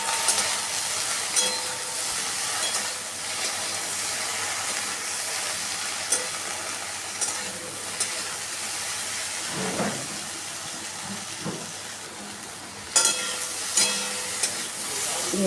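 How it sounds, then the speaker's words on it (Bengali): Sliced okra fries in oil in a kadai with a little salt and turmeric, a steady, moderate sizzle with occasional sharp stirring clicks and scrapes close by. "আর সামান্য হলুদ দিয়ে আরও কিছুক্ষণ ভেন্ডিটাকে ভেজে নেব।"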